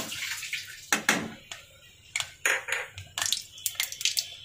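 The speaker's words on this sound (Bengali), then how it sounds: "প্রথমে আমি ফোড়নে দিয়ে দিলাম 1 চামচ কালো জিরা" A spoonful of nigella seeds (kalo jeera) tempering in hot oil for a hilsa and eggplant curry, crackling and spitting in sharp, uneven bursts close up, with no voices.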